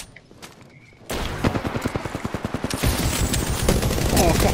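Rapid automatic gunfire from weapons in the battle royale shooter Apex Legends, a quick rattling burst of evenly spaced shots that swells into a dense, loud volley after a quiet start, with voices in the background.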